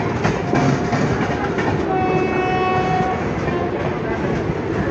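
Saptagiri Express 16057 rolls slowly through Basin Bridge Junction near Chennai, heard from on board as a steady, loud rumble of wheels and carriage noise with faint horn tones drifting in.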